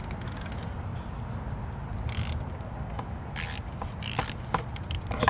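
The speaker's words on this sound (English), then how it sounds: "I'm gonna do it with a 3/8 ratchet," A 3/8 ratchet loosens the oil filter housing on a 2023 Jeep during an oil change, with several short bursts of fast clicking over a quiet background.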